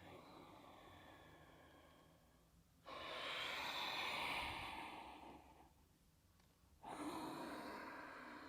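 Two long, soft inhales during postnatal yoga focused on the pelvic floor, each an airy rush of breath close to the microphone, with quiet pauses between them and no talking.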